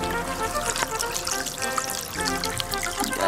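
Water from a pump-driven garden water feature splashes and pours steadily and briskly, a continuous close-up burble with no break.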